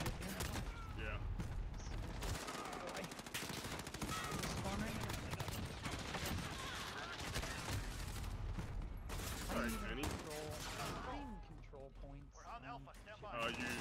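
Rapid gunfire bursts and automatic weapon fire fill a chaotic Modern Warfare Domination match on the Shipment map, dense and continuous with announcer and player voices talking over the clatter.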